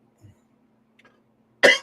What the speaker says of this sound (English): Having a fit, coughing attack.